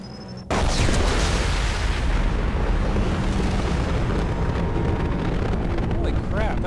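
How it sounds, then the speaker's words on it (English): A mech blows up in the video game Mass Effect 2: a sudden loud blast followed by a long, roaring rumble that slowly fades, with people talking over it. "That's the first mech I've ever seen blow up like that."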